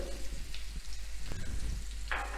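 Brinjal fries in a pan with garlic and coconut, making a close, steady sizzle broken by a few sharper stirring scrapes and spatters.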